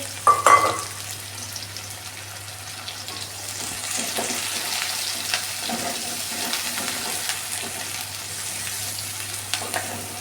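Onions frying on a low flame in a pan for potato and green bean sabzi: a soft, steady sizzle with occasional light stirring scrapes after an opening clatter, over a constant low hum.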